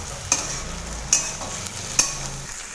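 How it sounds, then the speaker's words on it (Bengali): Tomatoes cook in a kadai for a dish of taro leaves with dried fish, a steady soft sizzle under three sharp scraping stirs spaced evenly, close by and with no voices. "এইবার টমেটোটাকে ভালোভাবে কষিয়ে একসাথে এটা মিশিয়ে নেব।"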